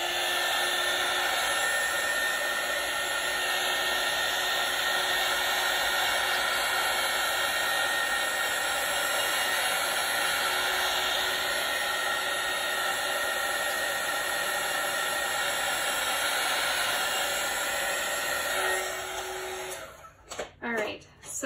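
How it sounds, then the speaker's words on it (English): Heat tool blowing hot air over a Dutch-style acrylic paint pour in blue, magenta and metallics: a loud, steady whooshing drone held close for about nineteen seconds, then cut off abruptly and followed by a few brief bumps. "So I'm gonna switch out to my heat tool and put some heat on this"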